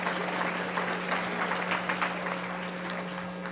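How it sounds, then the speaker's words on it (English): Applause from a crowd at a medical school Match Day ceremony for graduating osteopathic medicine students, steady moderately distant clapping with a constant low hum underneath. "Big round of applause to all of you."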